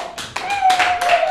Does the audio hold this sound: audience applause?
yes